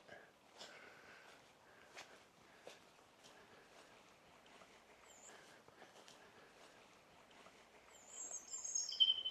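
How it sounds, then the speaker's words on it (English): A robin chirps in short, faint, scattered calls outdoors in a garden setting, with a brighter burst of song near the end and soft background movement. "It's actually a robin chirping."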